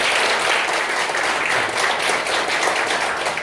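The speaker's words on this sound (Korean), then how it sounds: "패널 두 분께 감사한 마음을 담아 박수를 부탁드립니다" An audience at a religious discussion forum applauds the two panelists, a dense, steady clapping close at hand that holds throughout.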